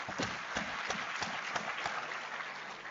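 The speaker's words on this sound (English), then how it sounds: "I would like to give you a big round of applause." Conference audience applauding, with a steady patter of claps and a few sharper beats throughout, moderately faint and without talk over it.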